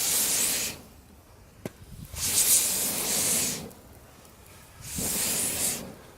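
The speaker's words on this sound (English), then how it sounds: "I learned that you can go like this and then make a diamond and blow through it." Air is blown through hands cupped into a diamond shape onto a campfire. Three long, breathy bursts of hiss come up close, each separated by a quiet pause, with no other sound.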